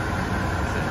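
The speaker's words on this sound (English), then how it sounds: "there's a noisy truck over there, just sitting there idling" A steady, low engine rumble idles continuously, a constant drone with no change in pitch, heard from a short distance.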